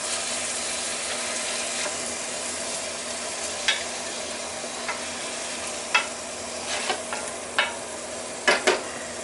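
Corn, red peppers and chives sizzle steadily in a frying pan, a constant hiss broken by occasional scrapes and clicks of stirring, close and without talk.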